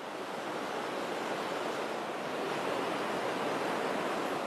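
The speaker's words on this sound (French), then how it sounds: "Et au milieu coule une rivière" The Rur river flows through medieval Monschau, a steady, even rush of water with no breaks, moderately loud and uninterrupted by voices.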